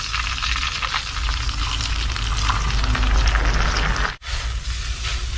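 Stock or water poured into hot sauce in a wok, raising a loud, dense, crackling sizzle that holds steady, drops out for an instant, then resumes.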